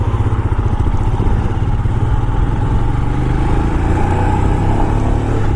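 A 2022 Royal Enfield Himalayan, a 24-horsepower motorcycle with a 21-inch front wheel, rides steadily along a road, its engine throbbing loud and close with constant wind rush and no break in the drone.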